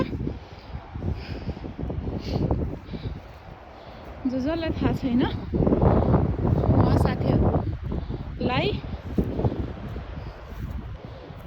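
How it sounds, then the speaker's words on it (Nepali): Strong gusting wind on the Atlantic coast of Portugal, a steady loud rumble of buffeting across the whole stretch while a person talks over it throughout. "मैले बोलेको आवाज एकदमै प्रष्ट छैन किनभने यहाँ यति धेरै ठुलो हावा चलिरहेछ।"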